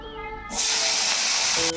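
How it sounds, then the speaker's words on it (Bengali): Crabs dropped into hot white oil set off a sudden loud, broad hissing sizzle that holds steady for over a second, close up, after a quieter moment with faint background tones. "তেলটা গরম হয়ে গেছে এবার আমি সব পাঁকড়াগুলো দিয়ে দেবো তেলের মধ্যে"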